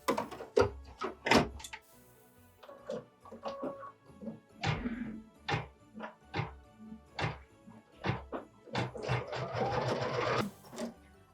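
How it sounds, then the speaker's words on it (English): A sewing machine stitches a placement line on a Christmas mini quilt, with rhythmic bursts of mechanical whirring and clatter broken by short stops, close and fairly loud. "we're going to return this to the machine and stitch our placement line."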